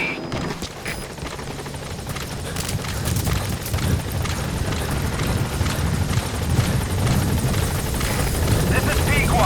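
In the video game Metal Gear Solid V, a helicopter approaches a landing zone with loud, steady rotor thumping that swells as it draws nearer, and faint game sounds lie underneath.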